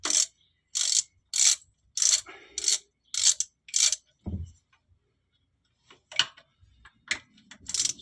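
A ratchet wrench loosening 10mm bolts on the thermostat housing of a Volkswagen Vanagon with an AGG engine: bursts of crisp ratcheting clicks, then a metallic clunk and more sparse clicks.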